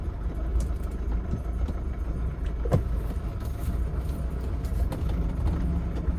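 BMW E12 520 car driving, with a low, rumbling engine and road noise that run steadily and close, plus a few light clicks and knocks from the cabin.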